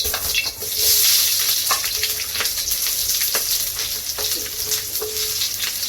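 Onions go into a hot pan while cooking chilli crab with squid, setting off a loud, steady frying sizzle with faint stirring scrapes throughout.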